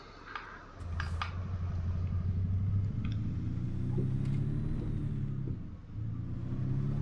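A truck engine drones steadily while driving in American Truck Simulator, a low rumbling hum that rises in pitch as it accelerates, dips briefly, then climbs again, with faint clicks above it.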